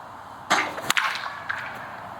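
A cracked maple baseball bat repaired with Gorilla Glue strikes a pitched ball: one sharp, bright crack near the start, followed by a second quick knock and faint field noise with no talk.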